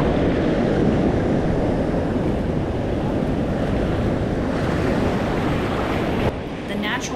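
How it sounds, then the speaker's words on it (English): Ocean waves crash on a rocky natural jetty by a beach in the Caribbean, a loud continuous roar of surf mixed with heavy wind buffeting, close by and without talking. "the waves crash on those rocks out there, that natural jetty"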